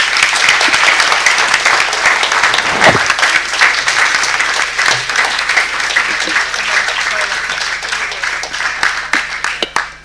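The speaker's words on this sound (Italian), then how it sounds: "Credo che l'applauso sia tutto meritato" Sustained applause fills a municipal council session in Rome, a dense steady clatter of many hands clapping close by for about ten seconds before it tapers off at the end.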